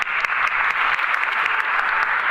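Studio audience applause on a French Sunday variety show, a dense, loud, steady clatter of many clapping hands with no voices over it.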